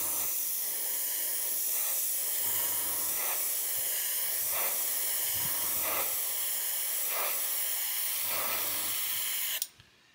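An airbrush sprays thin coats of chrome metallic paint onto a plastic model, a constant close hiss with rhythmic pulses from passes, cutting off abruptly at the end.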